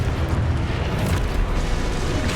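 Expulso explosion spell cast in Hogwarts Legacy, a loud, dense blast with a rumbling, roaring body that sustains throughout without speech.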